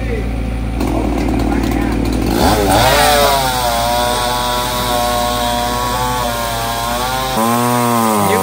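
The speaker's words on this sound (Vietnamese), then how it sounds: "đối với những cái thân cây to như thế này thì bắt buộc phải dùng đến cưa máy" A loud chainsaw roars steadily, its engine pitch rising and falling as it bites into a large tree trunk, with a voice speaking over parts of it.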